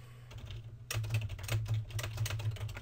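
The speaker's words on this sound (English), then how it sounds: "I'll do another basic Google search, and this time let's type in architect" A brief burst of computer keyboard typing for a Google search: quick, close key clicks start after a short quiet moment and continue in a fast irregular patter.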